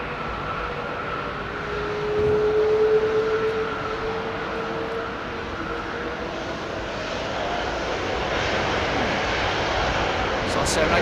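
A large jet airliner departs Heathrow Airport, a steady distant engine roar with a rising whine swelling and then fading, while people chat nearby.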